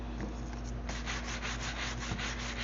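A cheap dollar-shop scrub brush with tough bristles scours a vintage roll top desk during a makeover, making close, rhythmic rasping strokes that grow louder and denser after a quieter start, with no talk.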